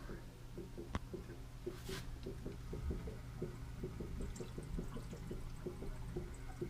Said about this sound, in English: You can hear that it's draining.